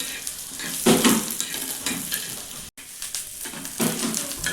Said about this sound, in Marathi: आता हे शेंगदाणे टाकले हे शेंगदाणे करायचे बारीक गॅसवर भाजून घ्यायचे